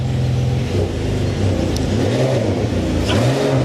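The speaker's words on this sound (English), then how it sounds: "Now I'm just going to rev it up for you." A Ferrari 599 GTE engine revs up close, its deep, loud note rising and falling in repeated throttle blips over a steady idle rumble.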